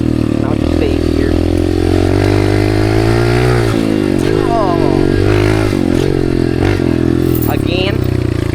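Dirt bike engine droning and revving steadily while riding through the desert, loud and close throughout with rising and falling throttle, plus wind buffeting and a voice talking over it.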